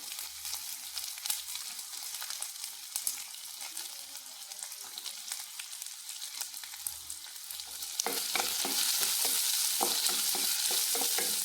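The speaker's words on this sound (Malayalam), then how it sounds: "നല്ലതായിട്ട് ഇളക്കി കൊടുക്കാം." Onions and green chili stirred in a hot pan for tomato rice, with a steady sizzle and scraping stir strokes that grow louder and denser near the end; no talk.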